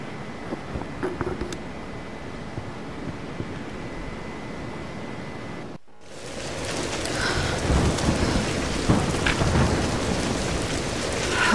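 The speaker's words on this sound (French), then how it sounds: "La tempête n'est plus très loin." Heavy rain and rolling thunder from a storm in the video game Tomb Raider (2013), a dense steady roar that cuts out briefly, then returns louder and fuller with low rumbles beneath the downpour.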